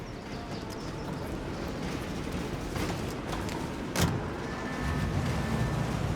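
Car in the video game Mafia Definitive Edition rolling along at a steady pace, a continuous engine and road rumble with a brief sharp knock partway through and faint music-like tones near the end.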